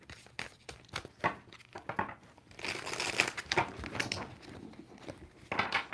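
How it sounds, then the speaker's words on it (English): Tarot cards shuffled close up, a run of crisp papery riffles and slaps that thicken into a continuous crinkling burst, then trail off into scattered taps, with no voices. "Two more shuffles for Virgo."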